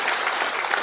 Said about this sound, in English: let us give the President a great big round of applause for that stirring